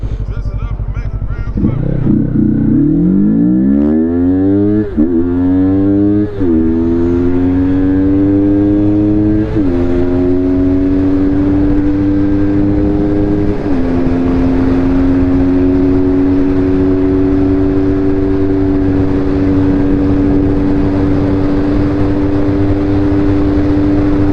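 A 300 motorcycle ridden hard to scrub in a new rear tire, its engine loud and close, rising in pitch through repeated gear shifts with brief dips between, then holding a steady high drone.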